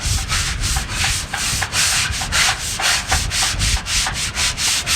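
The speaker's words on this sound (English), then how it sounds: "Scrubbing off that outside corrosion." Corroded metal mast sheaves are scrubbed by hand, giving loud, close, rhythmic abrasive rubbing strokes that repeat steadily throughout with no pauses.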